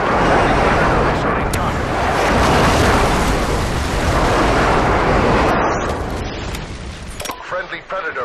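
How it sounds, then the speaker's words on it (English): Loud, rumbling explosions from a friendly airstrike in Modern Warfare 2 Hardcore Search and Destroy, a sustained roaring blast that tails off, followed by scattered clicks and brief game voice. "Friendly airstrike inbound."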